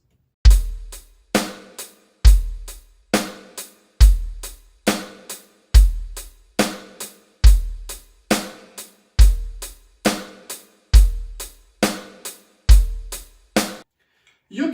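A Yamaha DTX452 electronic drum kit plays a steady repeating beat of hi-hat, bass drum and snare, with crisp, evenly spaced hits ringing out close and alone for about fifteen seconds.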